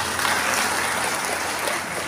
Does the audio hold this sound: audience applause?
yes